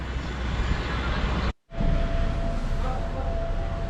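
Jet aircraft engine noise at the small Suceava airport in northeastern Romania, a steady loud broadband roar near the apron, briefly cut out mid-clip, then resuming with a faint tonal whine.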